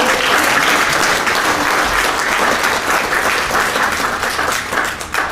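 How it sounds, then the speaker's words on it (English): Loud, dense applause from a crowd honouring scholarship-funding families, sustained and steady throughout without a break. "I want you to give them a round of applause as well."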